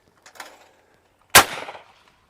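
Two shots from a Rizzini BR110 Sporter 12 gauge shotgun fired at machine-thrown clay targets, the first faint and distant-sounding, the second a loud sharp crack with a brief echoing tail.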